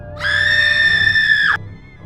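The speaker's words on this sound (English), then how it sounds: "Then you hear Liz scream." A woman's high, sustained scream used as a sound effect in a spooky audio story set in a wax museum, rising sharply, holding loud and steady for over a second, then cutting off abruptly.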